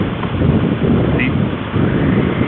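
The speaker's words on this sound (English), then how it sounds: "Ooh, it's windy out here." Steady, loud wind buffets the microphone during a motorcycle ride past the bay near Treasure Island, a continuous rushing roar with brief surges and no clear break.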